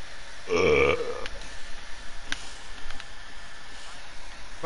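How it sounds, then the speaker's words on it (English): A single loud, drawn-out burp lasting under a second, close to the mic, followed by quiet background noise with faint clicks during a game session. "I'm just burping."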